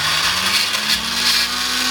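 A mixer grinder runs steadily, grinding a paste of roasted, spiced urad dal for crisp bedmi puri; a continuous whirring motor drone holds throughout with no talk.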